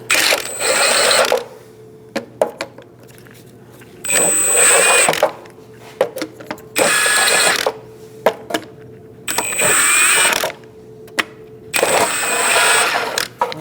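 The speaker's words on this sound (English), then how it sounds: "I'm going to remove these plastic lug nuts first using a 19mm." A socket tool undoes the plastic lug nuts on a Chevrolet HHR in five loud, close mechanical whirring bursts, each lasting about a second, with short quiet gaps between them.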